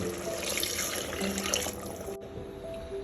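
Steady rushing water pours onto rice in a pot, a continuous splashing flow that cuts off abruptly, leaving a faint hiss behind.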